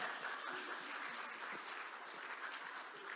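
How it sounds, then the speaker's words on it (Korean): A church congregation at a Friday evening service claps for the senior pastor, an even, continuous patter of many hands heard somewhat distant and soft, without voices. "박수."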